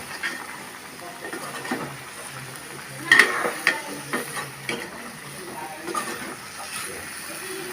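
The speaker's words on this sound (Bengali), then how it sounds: "ছয় থেকে সাত মিনিট ভালো করে কষাইতে হবে" Green beans and potatoes are stir-fried in a pan for a Bengali shrimp dish, with a soft steady sizzle and occasional scraping stirs and clinks, close and moderately loud.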